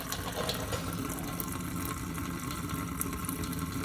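Water circulates and splatters inside a homemade kitchen sink parts washer, a continuous close gush with small irregular splashes over a low pump hum.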